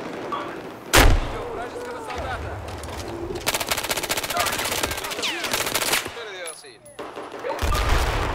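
Rapid automatic gunfire and sharp single shots from a Battlefield shooter video game, loud bursts broken by short pauses, with other game effects in between.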